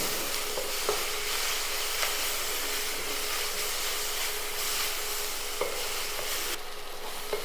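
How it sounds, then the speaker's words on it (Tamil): Masala sautéing in a pan for sundakkai paruppu kootu, a loud continuous sizzle and frying hiss with occasional spoon taps against the pan, close and steady throughout. "இதை மசாலா சேர்த்து நல்லா ஒரு ஒரு நிமிஷம் இந்த மசாலாவுடைய பச்சை வடை மாற வரைக்கும் இதை நல்லா வதக்கிக்கணும்"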